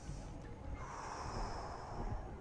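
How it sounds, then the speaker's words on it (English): A slow, controlled sniper breathing exercise from the hunting video game Cabela's Dangerous Hunts: a single drawn-out inhale and exhale, soft and close, with a faint game ambience behind it. "Special breathing techniques that's used by snipers."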